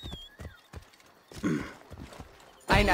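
A horse in Assassin's Creed Origins, a few hoof clops followed by a short snort or whinny, then a loud burst of sound at the end.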